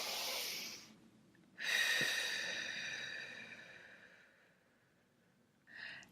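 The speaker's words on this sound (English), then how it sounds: "And just one more breath." Slow, deep breaths during a guided relaxation exercise, a long airy inhale followed by a drawn-out exhale and the start of another breath, close and soft with no talking.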